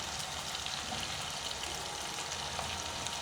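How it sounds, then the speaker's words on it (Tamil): Onions and spices for chicken biryani sauté in a pan at home, giving a quiet, steady sizzle that stays even throughout with no talk over it. "இது நாலும் சேர்ந்து நல்லா வதங்க மட்டும்."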